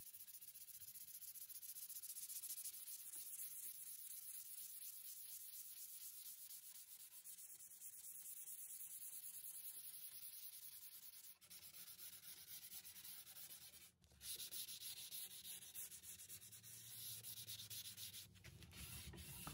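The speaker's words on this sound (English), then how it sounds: "I did come back with 220 grit sandpaper just to smooth out any texture I got in the paint" Painted wooden nesting tables are hand-sanded with 220 grit sandpaper to smooth texture in the paint. Steady, close rubbing strokes continue without a break for the whole stretch, with no voices.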